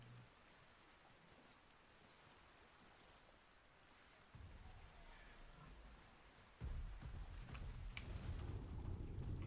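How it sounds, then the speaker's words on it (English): Rain falling in the video game Ark, a faint steady hiss that grows louder in two steps into a dense downpour, with low rumbling like thunder and no talking. "Looks like we're in for some rain."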